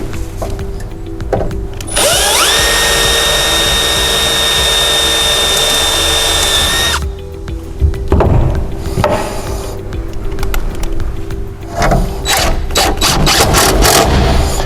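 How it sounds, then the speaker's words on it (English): A power drill pre-drilling a hole for a gable fan installation runs at a steady high whine for about five seconds, then stops, followed by clattering handling noises and light knocks nearby. "I'm going to go ahead and pre-drill that"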